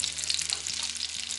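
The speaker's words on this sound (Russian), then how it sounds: "Жарим наши овощи с фаршем до золотистой корочки с двух сторон." Vegetables and minced meat fry in a pan toward a golden crust, giving a brief, even hiss of sizzling oil with a faint low hum underneath.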